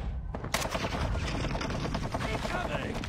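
An MX9 submachine gun with a 32-round magazine fires in a video game, rapid automatic bursts rattling loudly and continuously over a few seconds, close and dense.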